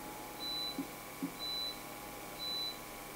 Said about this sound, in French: t'as entendu, là, la sonnerie, c'est mon lave-vaisselle qui...